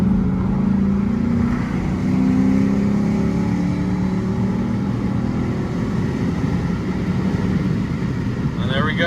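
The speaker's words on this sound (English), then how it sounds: "It's nice and quiet with this Borla exhaust." A Lexus IS F with a Borla exhaust hums steadily at cruising speed with a low, smooth exhaust drone, fairly loud and continuous.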